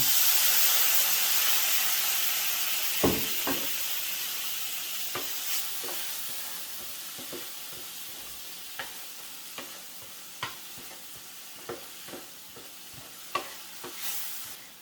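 Shaoxing cooking wine hits a hot wok in a loud, broad sizzling hiss that slowly fades, broken by scattered scraping clinks of stirring, with no talking.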